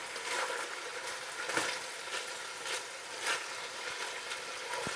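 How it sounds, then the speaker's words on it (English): Roughly chopped onions for goulash frying in a pot, a moderate steady sizzle broken by a few clacking stirs and scrapes. "I'm adding the roughly chopped onions. And stir them under."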